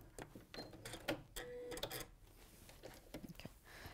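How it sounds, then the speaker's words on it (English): Sewing machine running a reverse stitch at the end of a seam while quilting: short mechanical bursts of needle chatter, close and fairly quiet, stopping and starting irregularly with small clicks between runs. "And then you just sew right down to the end. And the reverse stitch at the end."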